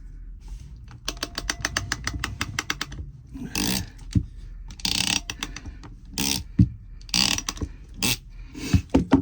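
A crimp clamp is tightened onto PEX pipe: a quick series of sharp ratcheting clicks, followed by scattered clanks and handling knocks from the tool and fittings, close by.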